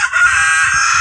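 A rooster crows loudly and close by in a farmyard, one sustained, harsh, steady call that fills the whole moment.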